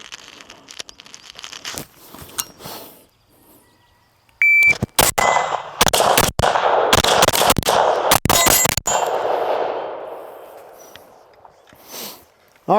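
Carbine rifle fired in a drill at paper and steel targets, a series of loud sharp gunshots in quick clusters with faint metallic pings from hit steel between shots.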